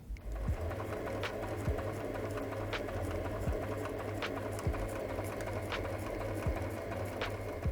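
A sewing machine stitches the seams of a fabric vertical pencil case, a quiet steady mechanical whirr with a regular rhythmic needle clatter running alone throughout.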